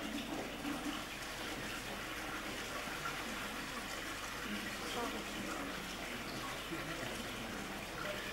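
A steady gushing hiss of pressurized water spraying from an air vessel during a physics lecture demonstration continues without a break, fairly faint, with a low background hum underneath.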